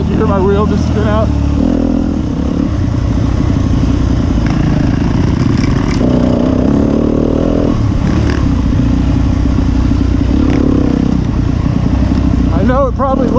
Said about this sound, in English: You hear my wheel just spin out.